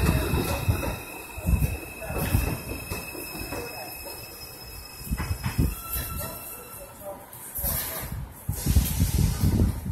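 An R142 subway car on the New York 2 line, Flatbush Avenue bound, pulls into Gun Hill Road station. A loud rumble and rail hiss fill the platform, with high wheel squeals and a hiss of brakes as it slows.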